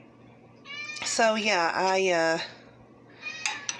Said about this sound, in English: my cat Buttercup is meowing